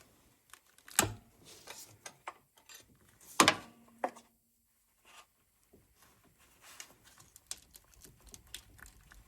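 Ratchet working loose a power steering pump bolt on a high-mileage engine, close up: sharp clicking bursts and metallic ratcheting with scattered tool clatter, no talking.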